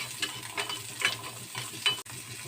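Shallots and garlic sauté in hot oil in a pan for curry leaf chutney, a soft, faint sizzle broken by a few light stirring scrapes.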